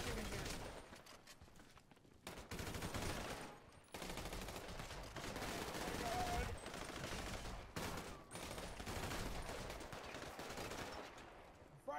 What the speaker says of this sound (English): Well, he's already shooting, so it's a bit too late now.